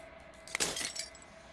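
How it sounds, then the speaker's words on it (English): Glass shatters in the video game Slay the Princess, a brief, bright burst of breaking and tinkling fragments over a faint steady hum, fairly quiet and with no voices. "As the final fragment of glass shattered"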